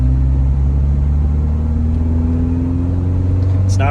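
A 2009 Subaru Impreza wagon with a non-turbo 2.5-liter boxer engine and five-speed manual gives a loud, steady, droning hum while driving, even and unbroken throughout.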